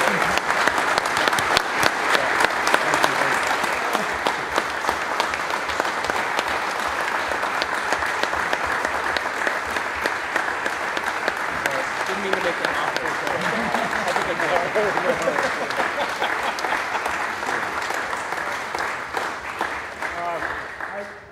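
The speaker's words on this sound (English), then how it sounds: "I think we should all give them another round of applause for an amazing team" An audience applauds at a retirement farewell concert, sustained dense clapping throughout, loud and close, slowly tapering at the end.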